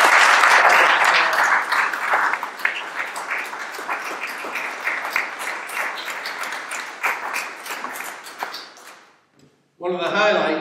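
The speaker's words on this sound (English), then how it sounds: "So I think our four preachers deserve a round of applause." A church congregation applauds four preachers at a circuit welcome service, with loud, full clapping that gradually thins and fades, followed by a brief pause and then a voice speaking.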